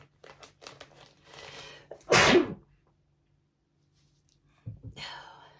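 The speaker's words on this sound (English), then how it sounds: "I'm gonna sneeze." A single loud, close sneeze bursts out after some quiet whispered talk, followed by silence and then a soft voice again.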